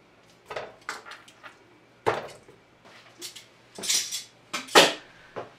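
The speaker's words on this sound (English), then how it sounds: "The pot is on medium heat and I'm adding the meat." Lamb meat goes into a pot on a stovetop over medium heat for Georgian chakapuli stew, heard as a series of separate clattering knocks and metallic clinks of pot and utensils, spaced irregularly and fairly close.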